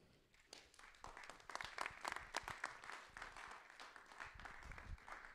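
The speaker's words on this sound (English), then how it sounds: "join me in a round of applause for our Institute of Politics Communications Director, Amin Gashal" Audience applause at a political forum, clapping swelling up from quiet within the first second and continuing as a dense, lively patter from a sizeable crowd.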